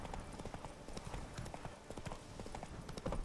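A horse's hooves clip-clop steadily on the ground in The Witcher 3, a quick, continuous trotting rhythm heard fairly close and without talk.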